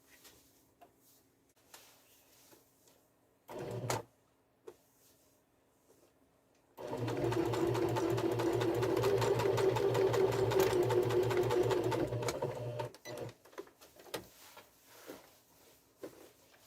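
A sewing machine stitching a fabric tote bag runs in one steady burst of about five seconds, a loud buzzing hum with rapid needle clatter, preceded by a short bump and followed by soft handling noises.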